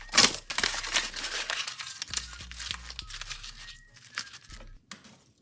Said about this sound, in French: il nous demande déchire cette page faisant une boulette